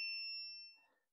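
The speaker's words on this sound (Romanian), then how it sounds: "Și ăsta roz ar trebui să bipă aici, da." A single high electronic beep sounds from the circuit board of a portable speaker, clear and close, holding for nearly a second before cutting off into quiet handling noise.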